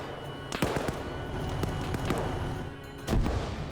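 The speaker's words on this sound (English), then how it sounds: "now I'm using grenades and RPGs" Grenade and RPG explosions in the Arma 3 combat game: a run of sharp distant cracks and thuds over a steady rumble, with a heavier blast toward the end.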